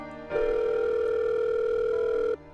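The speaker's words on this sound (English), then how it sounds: "The phone rings for a good minute before someone answers." A telephone rings in The Letter visual novel game as one steady electronic tone lasting about two seconds. It starts and stops cleanly over a faint background, and no one speaks.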